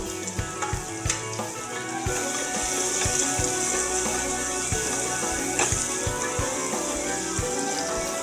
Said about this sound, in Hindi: अब हम यहाँ पर डालेंगे 1 चॉप किया हुआ ऑनियंस, इसको भी हम अच्छे से भून लेंगे ऑनियन को।